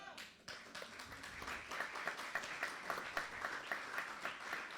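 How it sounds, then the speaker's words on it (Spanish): Church congregation applauding during a Spanish-language sermon, a steady patter of many hands with rhythmic accents, fairly quiet and moderately distant, filling the room after a brief pause. "Yo pensé que le iba a dar un aplauso al Señor"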